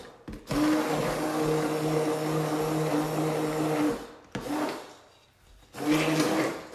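An immersion blender whirs through kabocha squash soup in a pot, a close, steady motor drone for about four seconds. It cuts out, starts briefly again, goes quiet, then runs once more near the end.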